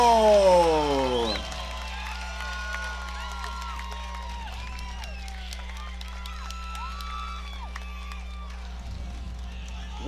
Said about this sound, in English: Listen to that crowd right now, man.